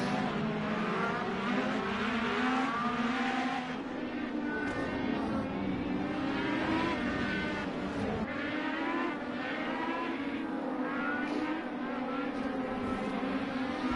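IndyCar race cars on a formation lap at Road America in a racing video game, a dense continuous engine drone from a pack of cars with layered whining tones, loud and steady throughout with no talk.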